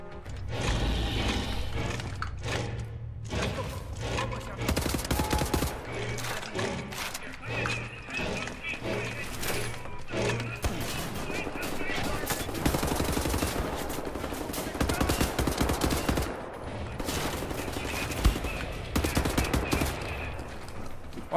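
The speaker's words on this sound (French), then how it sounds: "Moi aussi, je vais jouer au fusil à pompe." Rapid, loud pump-action shotgun blasts and bursts of gunfire ring out in close succession during combat in the video game Wolfenstein: The New Order, with occasional game sounds between the shots.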